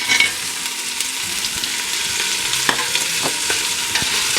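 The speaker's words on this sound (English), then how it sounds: "Now I'm going to add my cut up sausage." Cut-up Portuguese sausage fries with onions and garlic in a pot, a steady close sizzle broken by the scrape and clack of a utensil being stirred through it, with no voices.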